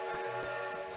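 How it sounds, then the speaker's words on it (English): A train in the Animal Crossing video game gives a brief, loud, steady rumble with sustained horn-like tones layered on top, continuous and close for about a second. "It's only the train, right?"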